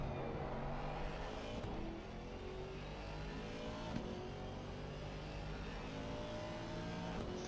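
A GT4 race car at Snetterton heard from onboard, its engine droning steadily at high revs with pitch shifts through gear changes and corners, loud and continuous with no talk.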